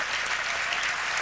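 Steady audience applause at an indoor comedy awards gala, a dense even wash of clapping from a large crowd, moderately loud and continuous throughout with no voices on top.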